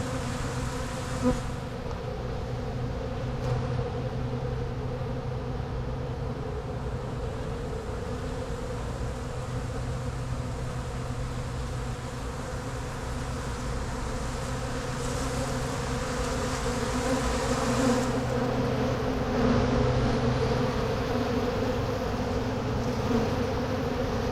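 Bees buzz steadily and close by throughout, a dense insect drone in an outdoor setting near hives, with no talking.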